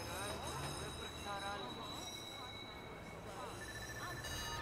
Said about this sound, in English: off one train to board another train